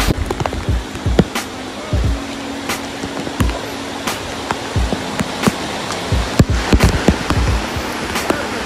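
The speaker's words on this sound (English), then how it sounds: "y'all, it is pouring" Heavy rain pours in a Puerto Rico rainforest in a constant loud hiss, with scattered sharp splashes and thuds breaking through; no talking, just the dense downpour close by.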